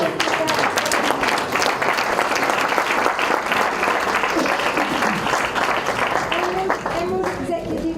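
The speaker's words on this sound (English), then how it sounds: "Big round of applause for Veronica." A crowd at a business event gives sustained applause for Diamond Executive Veronica Villason, dense clapping that stays loud and steady throughout.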